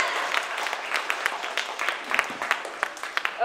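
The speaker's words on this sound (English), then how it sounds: "Huge round of applause for Steve Pratt and Karen Taylor." A small crowd claps at an evening after-party event, with sparse, distinct individual claps sounding close and uneven rather than a dense roar.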